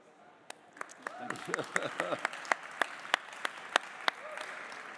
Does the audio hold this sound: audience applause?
yes